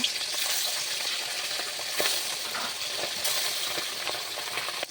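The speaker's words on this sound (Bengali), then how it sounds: "আমি এবার মাছগুলো দিয়ে দিচ্ছি, মাছগুলো ভেজে নেব।" Pabda fish fry in hot oil in a wok, a loud, continuous crackling sizzle with occasional sharper pops and spatters close by, and no voices.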